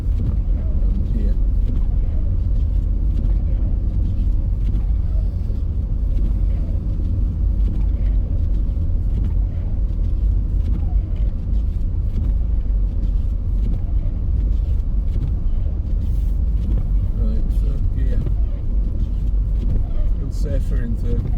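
A car drives in third gear along a snowy road after a night of snowfall, its engine rumble and tyre noise loud and continuous throughout, with wind noise on top and a voice talking over it now and then.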